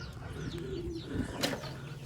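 Young pigeon chicks in a box calling with soft, close cooing and brief chirps, a thin repeated peep rising above a low background murmur, with a faint flutter near the end.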